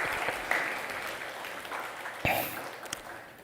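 Church congregation applauding during a Sunday worship service after a prayer, a moderate, steady patter of many hands with a few sharper claps standing out.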